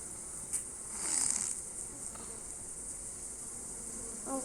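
Bees buzzing around a beehive in a video game, a steady faint insect drone with a slightly louder swell near the start and a short blip at the end.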